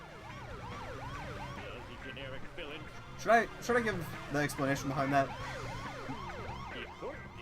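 Police car siren from The Simpsons Hit & Run, its sweeping wail running steadily through a car-chase scene of the game while a person talks over it.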